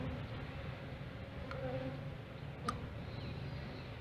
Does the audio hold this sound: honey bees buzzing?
yes